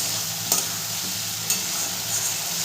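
Green peas being stirred into a frying spice mixture with potatoes and beans for a winter spinach curry, a steady close sizzle with a few brief spatula clicks, no talking.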